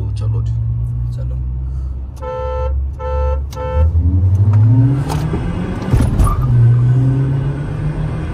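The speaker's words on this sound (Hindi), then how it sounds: "eco mode AC on minimum potential पे अपनी वरना रोलिंग" A Hyundai Verna 1.5 turbo rolls in eco mode with the AC on, its engine hum rising as a few short horn-like beeps sound. Voices talk over it inside the car.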